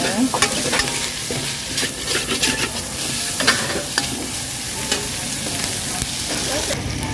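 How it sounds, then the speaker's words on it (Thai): Naem, Thai fermented pork, is stir-fried in a pan, with a continuous close sizzle broken by frequent scraping and clattering of a spatula against the pan. "แล้วก็คั่วแหนมต่อนะคะทุกคนคั่วแหนมให้สุกๆนะคะ"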